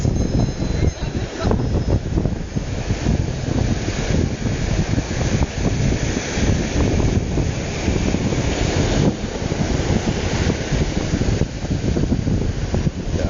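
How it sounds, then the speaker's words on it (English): Ocean waves break and churn on a beach under heavy buffeting wind noise, a continuous loud roar of surf with backwash pulling out to sea. "Undercurrents fighting the waves now."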